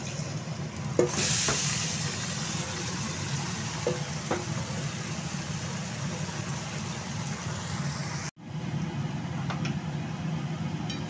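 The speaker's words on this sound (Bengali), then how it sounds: "এবার এতে আমি মাংসটা ঢেলে দিচ্ছি।" Marinated mutton with yogurt and onions goes into a hot pan of fried onions, setting off a loud, steady sizzle with a few spoon clinks, continuing close up for several seconds, briefly cut off near the end.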